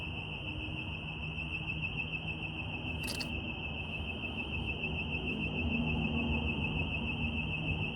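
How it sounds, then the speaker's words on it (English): A car alarm sounds outdoors, a continuous high electronic tone holding steady for the whole stretch with a faint background hum beneath and a brief click partway through; no one talks. "Okay, a car alarm's just gone off."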